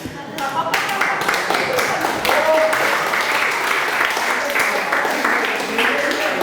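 An audience applauds at a staged mock trial of the French Revolution in Le Pré-Saint-Gervais, sustained, fairly loud clapping that starts abruptly and carries on steadily, with a voice talking through it.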